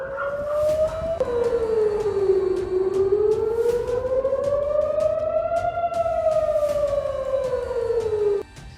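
A loud civil defense siren in central Israel wails continuously, its pitch slowly rising and falling in long sweeps, steady and unbroken throughout.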